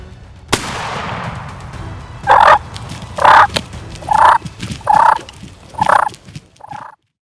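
Wild turkeys gobbling outdoors, a sharp crack followed by six loud rattling gobbles in a regular series, each about a second apart, with no talk.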